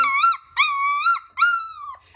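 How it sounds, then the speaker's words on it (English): A newborn Great Pyrenees puppy, hungry, whines in three drawn-out, high-pitched cries with short pauses between them, close and fairly loud. "You can tell that he's hungry because he's whining."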